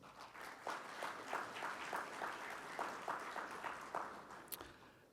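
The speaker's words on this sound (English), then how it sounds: "let's give a round of applause to all our speakers" A conference audience applauds the speakers, a fairly faint, steady patter of many hands clapping that runs for several seconds in a hall.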